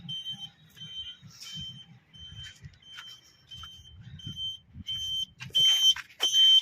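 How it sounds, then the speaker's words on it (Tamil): A Maruti Omni van's reverse horn gives repeated electronic beeps over a low rumble, fairly faint at first and then louder and denser in the last second. "இந்த இடத்துல இந்த ரிவர்ஸ் ஆர்னு எடுக்கும்."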